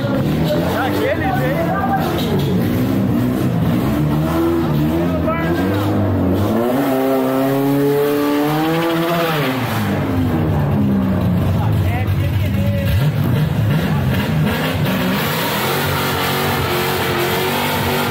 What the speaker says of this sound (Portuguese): fumaça, burnoutaço de menina, Maverick